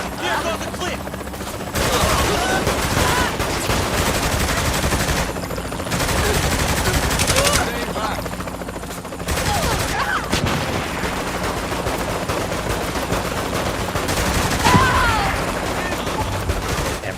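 Sniper and other gunfire in Saints Row The Third, dense bursts of shots and explosive booms sounding continuously at loud level, with brief lulls between volleys and voices talking over the action.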